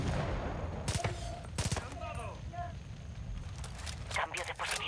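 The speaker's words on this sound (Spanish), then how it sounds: "Voló una caja de munición" Ammunition crate bursting in the shooter game Far Cry 5, a rapid string of sharp cracking pops and bangs in loud clustered bursts, with a voice talking over the fire.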